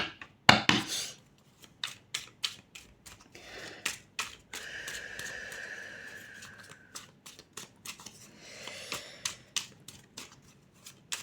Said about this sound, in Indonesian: So, kita kocok dulu semua kartunya.